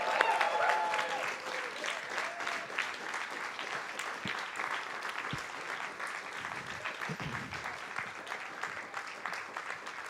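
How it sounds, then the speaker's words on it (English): An audience at the 50th anniversary Summer Writing Program closing at Naropa University applauds in a thick, continuous round, strongest at the start and easing slightly, with faint voices beneath. "One more round of applause for this, the 50th Summer Writing Program."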